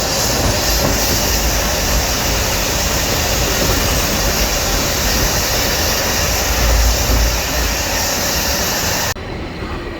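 A Swiss-made steam locomotive on a heritage hill railway in India runs loud and close, with a dense continuous rumble of wagons and clattering wheels that drops slightly at the end.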